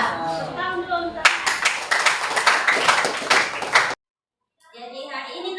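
Classroom students clap together in a short rhythmic burst for about three seconds, loud and close, with a teacher's voice before and after the clapping.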